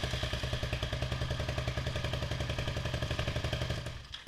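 Suzuki SV650 motorcycle engine cranks on the starter with a steady rapid chugging rhythm of the turning motor, loud and close, continuing for about four seconds before cutting off, without any speech.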